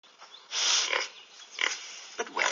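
Pigs at a farm pen grunting and oinking in a few short squealing bursts, close and fairly loud, with quiet gaps between calls.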